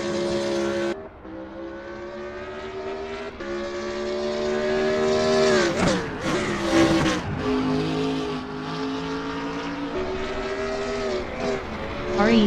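A BMW Z4 GT3 race car in a sim racing game at Brands Hatch howls through its gears with a loud, steady engine note, revving up and dropping on shifts and through Hawthorns Bend.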